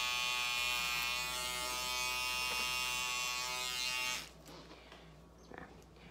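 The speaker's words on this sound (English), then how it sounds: "I take my clippers and I just shave this entire piece right down" Electric hair clippers hum with a steady, close buzz as they cut hair over a comb, then cut off abruptly and leave faint handling noises.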